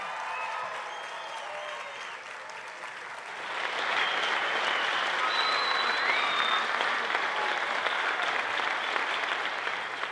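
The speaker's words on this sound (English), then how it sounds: "Keep that round of applause going for the whole choir." An audience at an elementary honor choir concert applauds the children's choir. The applause starts moderate and then swells into a sustained, full round that goes on for several seconds, with faint cheers scattered through it.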